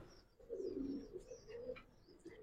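A Giribaz pigeon coos softly in a loft, a low rolling call heard up close and fairly quiet, with a few faint chirps from other birds around it.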